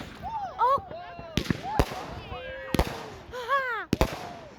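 Fireworks explode in several sharp, loud bangs at irregular intervals, while a person talks animatedly between and over the blasts.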